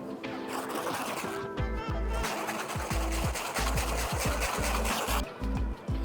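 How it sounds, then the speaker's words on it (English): A whisk beats butter into crème pâtissière for a chocolate soufflé, making a steady, rhythmic scraping and sloshing against the bowl that continues close up throughout. "I have some butter here which I'm going to be whisking inside my creme pat."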